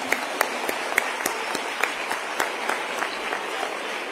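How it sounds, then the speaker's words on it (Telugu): Audience applause for Minister Nara Lokesh at an inauguration event, a steady wash of many hands clapping with a few sharper claps standing out, sustained and moderately loud throughout. "మనందరం ఒక్కసారి చప్పట్లు కొడదామా ఆయనకి?"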